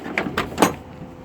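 Door of a 1993 Ford Fiesta XR2i 16V, old and thin-skinned, handled in a scrapyard: a few quick close clunks and rattles in about a second, near and fairly loud, without talk.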